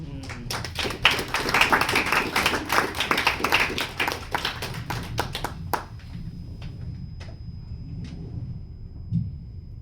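An audience applauds poets at a poetry recital during a book presentation. Many hands clap briskly and fairly close for about six seconds, then the clapping thins to a few scattered claps before dying away.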